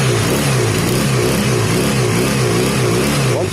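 Honda CB250 cafe racer engine revving close by, a steady wavering drone with uneven, hesitant surges where it stumbles at one throttle position, continuous and loud with no talking.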